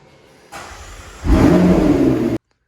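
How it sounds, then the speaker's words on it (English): A McLaren 650 Spider under rebuild cranks briefly with the starter whir, then the engine catches and roars into a loud, sustained rev close by before cutting off abruptly. "Now before we put the other half of the tub, I want to see if it's gonna start."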